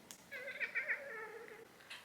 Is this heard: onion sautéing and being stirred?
no